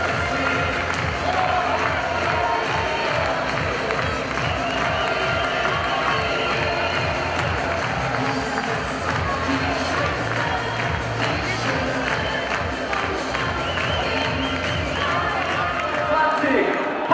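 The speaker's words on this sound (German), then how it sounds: "Applaus aber auch für diese Rettungsaktion von Filip Dmitrovic." A football stadium crowd at an Austrian league match cheers and applauds with a continuous roar, rhythmic clapping and chanting throughout, beneath a commentator talking.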